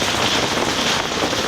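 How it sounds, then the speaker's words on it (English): Rain pours down outdoors during a thunderstorm, a constant close wash of drops striking surfaces, with no talk and no pauses throughout. "We're sitting out here in the rain,"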